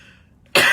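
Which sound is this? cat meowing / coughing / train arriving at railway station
coughing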